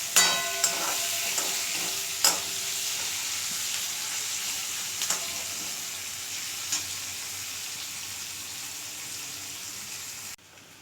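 Onions browning in a pan for chicken do pyaza give a continuous hissing sizzle, with several sharp clinks and scrapes of stirring, fading slightly before stopping at the end.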